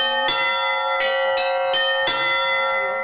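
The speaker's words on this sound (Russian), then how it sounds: "Юные гости прикоснуться к колоколам решились не сразу. Зато как раззвонились," Church bells at an Orthodox monastery on the Volga, rung by young visitors, strike in loud, rich, ringing peals roughly every half second to second, each stroke layering over the long sustained hum of the previous ones.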